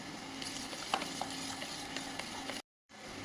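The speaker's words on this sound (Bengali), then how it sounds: "গোলমরিচ গুঁড়ো, oregano, chilli flakes, chaat masala দিয়ে এটাকে ভালো করে মিশিয়ে নেব" Chicken salad being stirred and tossed in a bowl with pepper, oregano, chili flakes and chaat masala, a continuous soft scraping and rustling with a few sharper clicks, then a brief silent gap near the end.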